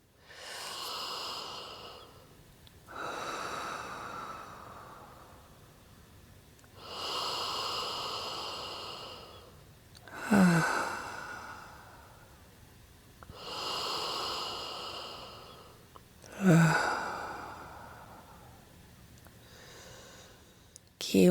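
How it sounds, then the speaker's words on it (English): Slow, deep breaths drawn in and released, close and quiet, in long even cycles with soft pauses between, a few inhales ending in a sharper snort-like catch. "Take 3 deep breaths in."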